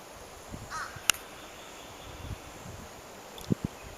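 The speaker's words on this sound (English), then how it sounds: "a crow right next to him fussing at him for some reason" A crow caws in the open near a bald eagle perched on a limb, a few faint, distant calls among soft rustling and insect hum, with a single sharp click partway through.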